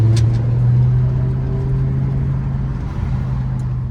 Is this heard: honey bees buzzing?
no